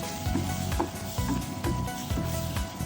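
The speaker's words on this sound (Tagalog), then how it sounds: "So, ayan, kulong-kulo na siya." Water boils hard in a pot on the stove, a steady bubbling and crackling sizzle with faint stirring knocks, close and continuous with no voices.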